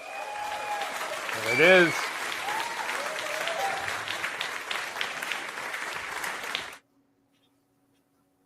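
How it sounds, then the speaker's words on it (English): A canned applause sound effect fires from a button, a burst of clapping and cheering that runs steadily for several seconds under a brief spoken remark, then cuts off abruptly into silence. "New button, applause."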